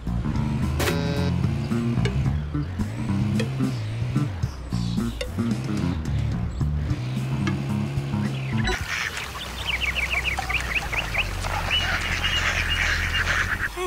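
Ducks and geese in the video game Roundabout quack and honk in repeated bursts over a looping game music bed, then rapid goose-like honking rises in the last few seconds.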